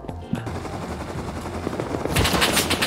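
Rapid bursts of gunfire in the survival game Rust, sustained automatic shots sounding close and loud, with a heavier, brighter volley swelling near the end and no talk over it.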